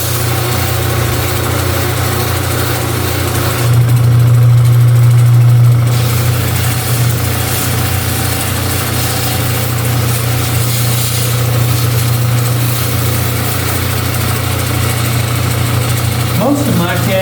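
A lapidary grinding wheel polishing a low-dome cabochon gives a steady low motor hum with a constant broadband whir, swelling louder for a couple of seconds as the stone is pressed against it.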